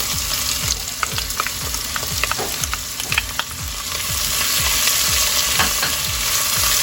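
Onions and garlic fry in a pot for a vegetable mushroom stew, a continuous sizzle broken by repeated rhythmic scraping and stirring strokes, close and fairly loud, with no talk.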